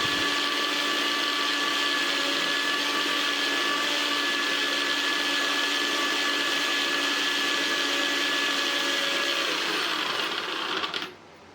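A mixer grinder grinding onion and garlic into paste runs loudly and steadily with a high whine for about eleven seconds, then cuts off abruptly near the end.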